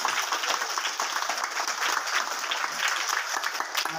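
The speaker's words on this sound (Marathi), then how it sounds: "सर्व विद्यार्थ्यांनी चिंचकर साहेबांसाठी जोरदार या ठिकाणी टाळ्या वाजवायच्या" Schoolchildren at a Zilla Parishad girls' school in Kalamb clap loudly for a visiting guest, a dense, even burst of applause sustained throughout without pause.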